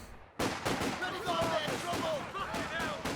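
Machine-gun fire and other gunfire crackle in a Company of Heroes 2 team battle of World War II infantry, with a Vickers gun firing on troops crossing a river. Dense bursts of rapid shots run throughout, with a voice talking over them.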